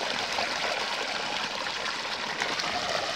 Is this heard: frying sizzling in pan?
no